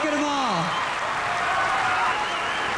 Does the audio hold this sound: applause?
yes